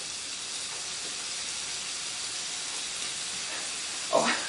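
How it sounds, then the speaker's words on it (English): Sauce and spices sizzling in a heavily used camping pot, a steady broadband hiss filling the clip at moderate level, with a brief louder burst of spitting near the end. "I hope the microphones can pick up the sizzling because that sounds delicious."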